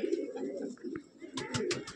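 Andhra pigeons in a breeding loft give soft, throaty coos as a short, quiet murmur with a few brief rustling clicks.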